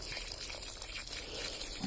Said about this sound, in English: probably a few litres of water in each bag